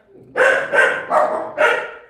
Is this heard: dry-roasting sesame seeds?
no